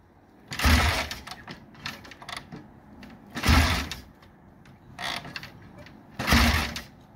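An 80s turbo Honda engine cranking without catching, in repeated bursts of mechanical whirring separated by short pauses, fairly faint and close.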